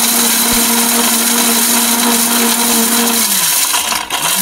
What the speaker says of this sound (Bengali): কিন্তু আমাদের বাসায় থাকবে এই ছোট্ট মেশিন, কিন্তু তাও আমরা 30 সেকেন্ডে হলুদ একদম মিহি করে দেবো